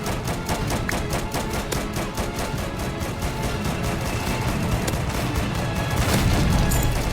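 Cannon fire in the video game Battlefield Tycoon comes as a dense, continuous barrage of booms and crashing impacts over steady battle noise, building slightly louder toward the end.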